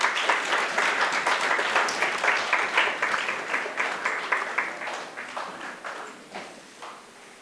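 Conference audience applauding to welcome a guest speaker at an international shipping conference, dense clapping from many hands that gradually thins and fades toward the end.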